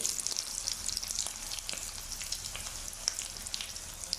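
Sambosa fry in a pan of oil over medium heat, giving a steady, close hiss of dense crackling and popping that runs the whole time, with no one speaking.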